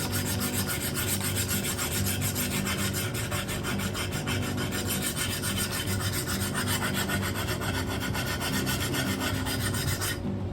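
A file rasps back and forth along the rusty edge of a vintage double bit axe. The strokes are quick and rhythmic, loud and close, and carry on for about ten seconds with no talking.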